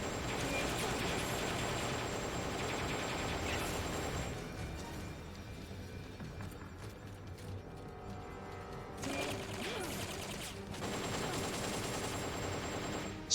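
Machine gun fire in Metal Gear Solid Peace Walker rattles in long continuous bursts, dense and steady, briefly easing in the middle before resuming loudly amid game music and effects.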